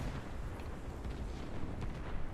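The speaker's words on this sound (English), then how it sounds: "my teammates are stupid and don't know that gunfire kills you" Dense gunfire and blasts fill a Warface video game match, a continuous loud roar of overlapping shots and explosions with no clear gaps and no voices over it.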